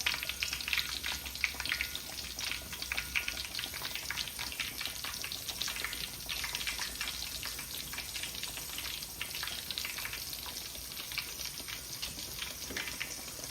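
Chicken pieces deep-fry in very hot oil, Jamaican-style fried chicken, giving a continuous dense crackling sizzle that holds steady and fairly faint throughout, with no talk.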